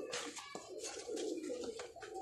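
Sialkoti pigeons coo in close, repeated throaty rolls, several birds overlapping in a busy, continuous murmur with soft wing or perch noises in between.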